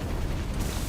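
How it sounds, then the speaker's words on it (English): Explosive rounds detonating in the Resident Evil 3 Remake video game, heard as one dense, loud, continuous low rumbling blast that fills the whole short moment. "Oh, cool, explosive rounds."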